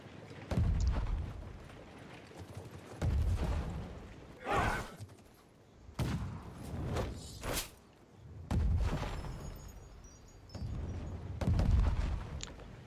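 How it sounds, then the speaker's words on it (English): Artillery fire in the medieval battle game Conqueror's Blade, heavy booming impacts recurring in irregular bursts roughly every few seconds, with loud low thuds over a continuous noisy battlefield din, no talk. "Both sides do get access to artillery, so it's best to make use of them when you can."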